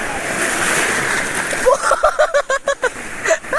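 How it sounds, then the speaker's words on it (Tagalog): Strong sea waves surge and splash loudly at a beach resort, followed by a series of choppy sloshing bursts, with voices and shouting mixed in. "Lakas ng alon!"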